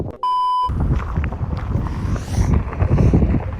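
Wind buffets a camera mounted on a boat, gusting from all sides in a continuous low roar that rises and falls, opening with a short electronic beep.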